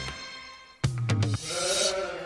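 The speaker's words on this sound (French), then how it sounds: "Mouton." Recorded sheep bleating, one loud wavering bleat sounding close after a quieter tonal hum, then a fainter drawn-out cry trailing off, with no speech.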